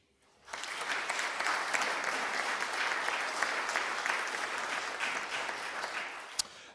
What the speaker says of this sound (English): We'll try giving an applause to each person as they come up.